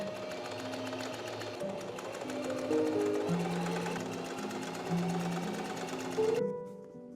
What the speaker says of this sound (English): I'm just going to be sewing as close to the edge as possible while making sure that I'm catching all of that under fabric to create our little channel